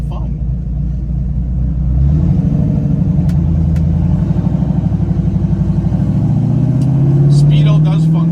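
A 1964 Chevrolet Chevelle Malibu with its exhaust opened up, engine rumbling at idle and then revving, a steady low-pitched throb that swells over several seconds, close and loud with someone talking over it.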